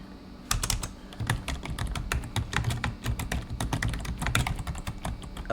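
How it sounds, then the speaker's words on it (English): Rapid, uneven clacking of fingers typing on a computer keyboard, close and fairly quiet, with irregular bursts of keystrokes and no talking. "Oops, how do I type it?"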